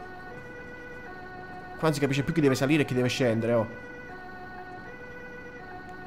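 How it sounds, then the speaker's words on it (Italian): An ambulance siren from the Bus Simulator 16 video game holds steady tones in the background while someone talks over it for a couple of seconds. "Guarda l'ambulanza che mi spinge."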